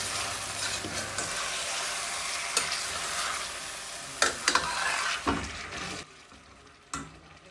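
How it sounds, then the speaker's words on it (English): Chicken curry masala sizzles and fries in a pan over a medium-low flame, a steady crackling hiss with occasional stirring scrapes and clinks that fades quieter near the end. "let it cook on medium-low flame"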